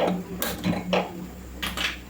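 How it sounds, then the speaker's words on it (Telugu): A small metal kadai is set down on a kitchen stove, making several close, sharp metallic clanks and clatters spaced over about two seconds, with no talking. "తాలింపు కోసం అయితే ఒక చిన్న కళాయిని అయితే పెట్టానండి స్టవ్ ఆన్ చేసుకుందాము"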